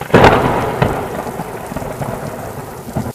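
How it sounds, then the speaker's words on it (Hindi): Heavy rain pours down as a sharp, loud thunder crack bursts out, followed by rumbling and a steady downpour. "तभी अचानक से बहुत जोर से बिजली कड़कती है"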